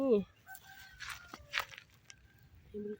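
A rooster gives a short crow near the start, and hen clucks and rustling outdoor sounds follow over a quiet morning background, with a person speaking briefly.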